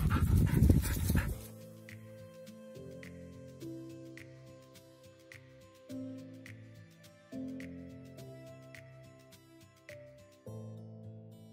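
A female dog pants steadily during obedience training for a release command, a close, rhythmic series of quick breaths with faint whimpers, following a brief loud burst at the start.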